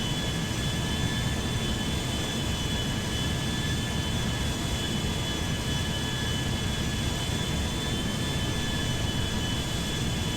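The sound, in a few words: Boeing 737 MAX-9 taxiing to the gate in GTA 5 video game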